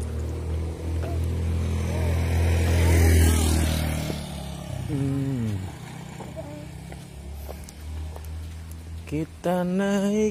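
A motorbike passes on a road in the Guci tourist area, its engine rising and falling close by beneath a steady low rumble, with people talking over it throughout.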